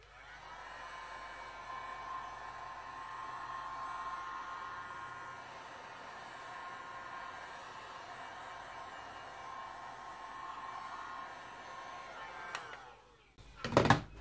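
A heat tool warms poured resin art with a steady, airy blowing hiss that runs for many seconds at moderate level, then stops and is followed by a few brief handling knocks.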